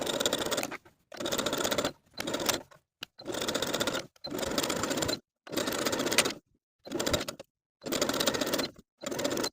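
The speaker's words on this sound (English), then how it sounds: "Then we can sew both of our sleeves in place with a 3/8 inch seam allowance." A sewing machine stitching T-shirt sleeves with a 3/8 inch seam, running in nine or ten bursts of rapid, even whirring separated by short pauses, close and alone.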